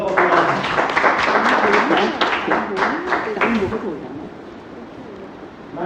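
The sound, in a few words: audience applauding a speaker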